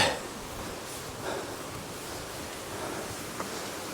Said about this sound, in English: I can hear a lot of water. Sounds like a right strong torrent.